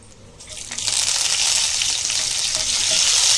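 Cumin, garam masala and curry leaves hit hot oil, a sudden close burst of sizzling that rises within a second and holds as a loud, steady crackle.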